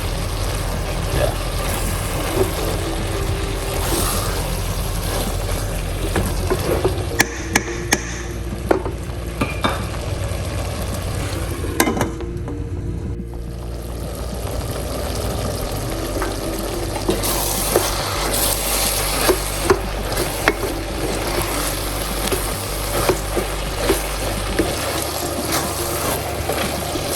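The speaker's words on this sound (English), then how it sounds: "Alright, let it cook. Give it a stir." A spoon stirs a simmering homemade drink in a cooking pot, with continuous scraping and sloshing and a soft bubbling sizzle underneath, steady and close for the whole stretch.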